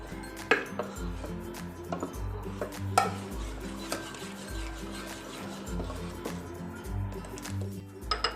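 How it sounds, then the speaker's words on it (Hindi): A spoon mixes fermented dosa batter in a bowl, giving steady, rhythmic scraping and sloshing strokes with occasional sharper clinks against the vessel. It is close and moderately loud, with no talking. "अब हम इसको दोबारा से एक चम्मच की मदद से अच्छी तरह मिक्स कर लेंगे"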